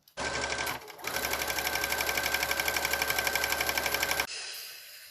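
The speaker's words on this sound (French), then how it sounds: "je vais venir piquer de chaque côté au plus près du bord" A sewing machine stitches close along both edges of a fabric cord while making an XL collar. It runs in a fast, steady rhythmic patter, pauses briefly near the start, then continues loud and even before cutting off.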